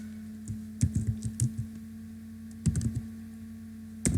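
Keys on a computer keyboard clack in two short bursts while text is entered into a spreadsheet, crisp and close, with a steady electrical hum underneath and no voices.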